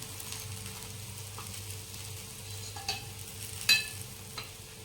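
A flipped lachha masala paratha fries in an oiled pan with a soft, steady sizzle and a few small crackles, heard close and quiet with no talking.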